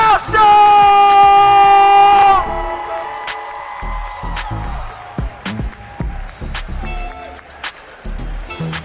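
A live comedy roast show audience cheers and yells, a loud sustained crowd roar that fades into scattered claps, whoops and shouting voices.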